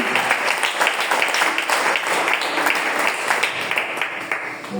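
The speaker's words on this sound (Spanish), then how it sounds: "Apláudale fuerte si le va a aplaudir." Church congregation applauding, dense continuous clapping from many people filling the room, fairly loud and steady.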